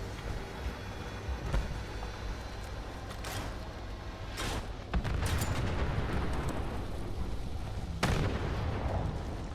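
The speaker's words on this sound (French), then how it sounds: "Oh, attention, Il va exploser, il va exploser. il y a du carburant." Burning fuel and canisters going off in Fallout 76, a string of deep blasts and booming bursts, with a loud burst around the middle and another near the end, rumbling in between.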